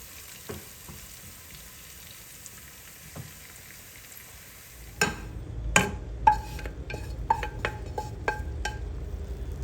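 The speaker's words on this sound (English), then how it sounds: "So I went ahead and added the tadka in there and give this a good mix" Tadka hits masoor daal with a loud burst of sizzling, then a spoon stirs and clinks against the pot in a run of sharp knocks over a steady frying crackle, with no talking.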